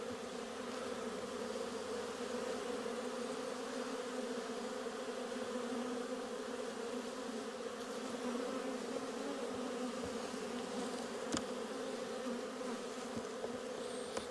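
Honey bees buzz at an open beehive during a spring inspection, a dense and steady drone that goes on throughout without a break. No voices are heard over it.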